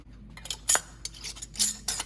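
Metal bands being screwed onto the lids of glass canning jars filled with homemade chunky spicy salsa, giving a close series of light metallic clinks and scrapes in short uneven bursts with quiet gaps between them.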